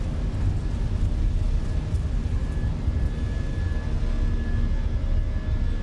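Airbus A320 jet engines roaring in Flight Simulator 2024 during the takeoff roll from Minneapolis, a loud steady broadband rumble with a faint whine that holds constant throughout.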